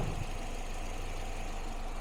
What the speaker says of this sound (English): Just listen now to how quiet this thing idles.